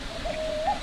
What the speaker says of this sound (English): Lots of birds in here.